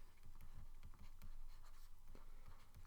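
Pen writing by hand on a surface, a faint steady scratching with light taps, quiet and close with no voices.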